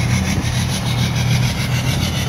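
Diesel engine of a 2014 Ram 3500 truck running just after starting, a loud, steady low rumble with a rough whooshing texture, close and unbroken, no talking.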